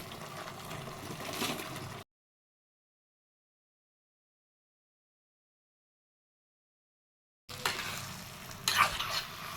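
Cabbage manchurian balls being stirred into a cooked sauce in a pan, a steady stir-fry sizzle with scraping for about two seconds, then silence, then the sizzling and stirring returns louder near the end.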